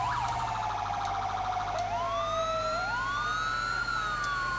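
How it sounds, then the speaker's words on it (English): Two emergency vehicle sirens in GTA 5 wail at once, their pitches sweeping up and down and crossing, loud and close over a low background hum. "Get some dual sirens going."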